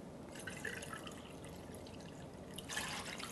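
Quiet stream of water pouring into a pot, a soft continuous splashing that swells briefly louder near the end.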